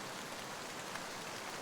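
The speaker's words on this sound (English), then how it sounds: "here it was raining pretty hard" Heavy rain pours down steadily, a dense, continuous hiss of drops striking surfaces close by, with no voices.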